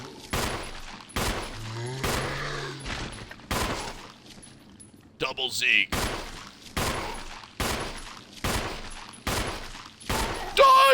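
In the Resident Evil game, a player fires repeated gunshots at zombies, about ten loud evenly spaced blasts. Short spoken lines and game sounds come in between the shots.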